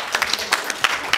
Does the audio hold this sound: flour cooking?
no